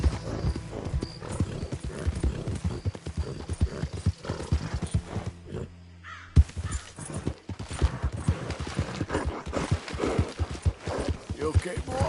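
Horse hooves clip-clopping in quick rhythm as a horse gallops in Red Dead Redemption 2, steady and close, with a neigh and a short gap midway and a voice talking over the hoofbeats.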